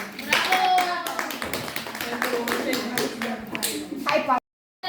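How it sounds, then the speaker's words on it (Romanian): Applause for a child in a carnival costume, a small group clapping close by in uneven, loose bursts with voices talking over it, ending in an abrupt cut to silence just before the end. "Haideți să o aplaudăm."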